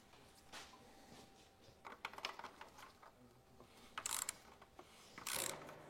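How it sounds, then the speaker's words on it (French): A torque wrench tightens a bicycle bottom bracket to 40 Nm during a Meral Artemis bike build, giving quiet, close ratcheting clicks in short bursts, with a few sharper metallic clicks near the end. "le vissage se fait à la clé dynamométrique"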